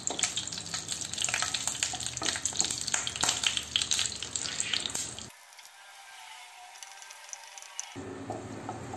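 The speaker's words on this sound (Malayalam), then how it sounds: "മസാലകളൊക്കെ നല്ല ഫ്രൈ ആയിട്ടുണ്ട്" Whole spices, cardamom pods and cloves, fry in hot ghee for ghee rice, giving a steady close sizzle and crackle with stirring scrapes and a short quieter gap partway through.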